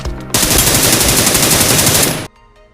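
Rapid automatic gunfire in the battle royale game PUBG New State, a loud, dense continuous burst of shots lasting about two seconds before cutting off abruptly.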